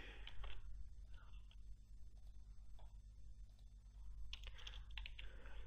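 Keys on a computer keyboard clatter in quick, irregular bursts, faint and close, with pauses between flurries and no talking.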